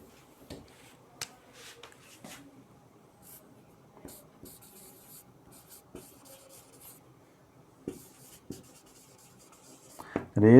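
A teacher writing on a board during an applied physics optics lesson, faint scratchy strokes and occasional sharp taps in a quiet room, with brief louder sounds at the very end.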